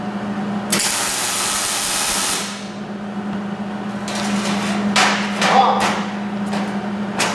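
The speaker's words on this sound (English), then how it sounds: "now I'm gonna weld it, and Sabrina's gonna help" Welding on a frame triangle during a Mustang LS swap, with a bright broadband hiss of an arc running steadily for under two seconds, then quieter shop noise and a few further short crackling bursts over a constant low hum.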